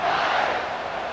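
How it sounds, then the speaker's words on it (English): Stadium crowd in the College Football 26 video game, roaring before a kickoff: a dense, sustained wash of cheering voices, loud and even, with no distinct speech on top. "this crowd is feeling themselves after that last drive"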